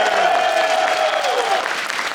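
Audience clapping at a Magic: The Gathering Marvel Secret Lair reveal panel at New York Comic Con 2024, a dense steady patter of many hands through a large room, with a drawn-out cheer fading over it.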